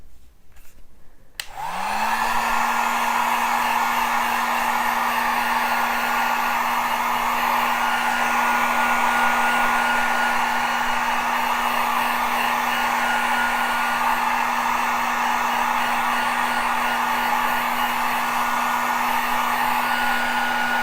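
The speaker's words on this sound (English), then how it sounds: "this is a heat gun, not a hair dryer." A heat gun switches on and blows hot air with a loud, steady whirring hum that runs on unbroken.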